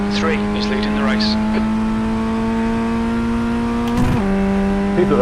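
Race cars in the iRacing sim racing game hold a steady, droning engine note throughout, with a brief surge around the four-second mark; a voice talks over the engines for much of the time.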